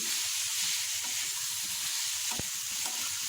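Tomatoes sizzle and fry in a hot pan with a steady, close crackling hiss and an occasional stirring scrape, with no voices.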